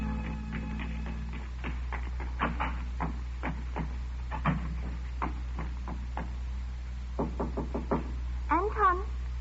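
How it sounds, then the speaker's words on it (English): A series of knocks on a door in an old suspense radio drama, sharp raps in uneven bursts over a low steady hum, with a short faint tonal sound near the end. "I waited for her knock."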